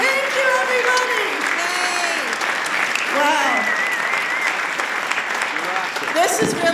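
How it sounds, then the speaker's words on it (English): Enthusiastic applause from an audience at an arts hall of fame event honoring performers, with cheering, whoops and shouted voices riding over the continuous clapping. "Let's give them another round of applause."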